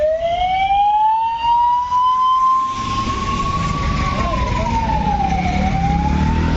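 An ambulance siren wails in a long rising and falling tone as it passes through a road blockade set up by protesters, loud and close over a dense rumble of traffic and crowd noise.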